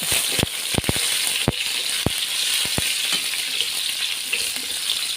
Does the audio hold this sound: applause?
no